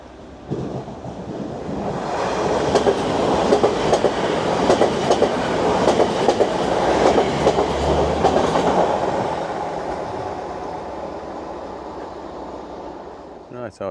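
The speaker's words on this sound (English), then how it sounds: "Right, our train is approaching in the distance." A train rumbles past on the rails, building from a distant approach to a loud, steady roar with rhythmic clacking, then fading away.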